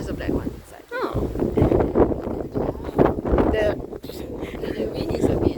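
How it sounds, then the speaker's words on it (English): Strong wind buffets the microphone at the summit of Mount Batur in Bali, a loud, gusty rumble that rises and falls while people talk close by. "The wind is a bit like strong."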